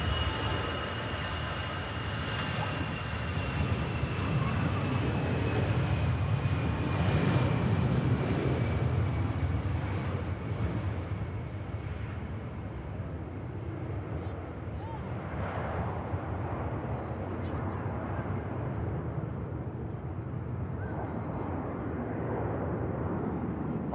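An airliner on its takeoff roll at Manchester Airport, a broad, steady jet roar heard from a distance that swells and then slowly eases, with a faint whining tone gliding downward through it.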